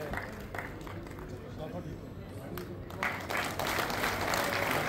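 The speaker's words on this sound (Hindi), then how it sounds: "जोरदार ताली से अभिनंदन करिए सभी।" Crowd clapping to welcome guests at a BJP membership drive event, loud applause mixed with voices and shuffling, swelling stronger in the last couple of seconds.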